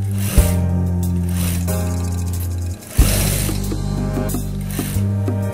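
A sewing machine runs steady and loud while stitching the seam of a gamis dress, with a continuous mechanical whir and brief pauses and restarts near the beginning, around three seconds and near the end.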